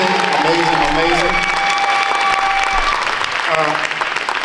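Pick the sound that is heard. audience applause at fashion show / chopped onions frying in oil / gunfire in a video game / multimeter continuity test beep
audience applause at fashion show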